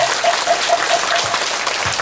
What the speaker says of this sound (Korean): 우리 큰 박수로 좀